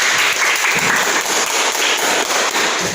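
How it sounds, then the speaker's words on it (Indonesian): Applause from a group of schoolchildren at a morning school event in Indonesia, steady dense clapping throughout, loud and close, with a faint voice or two underneath. "tepuk tangan buat dia"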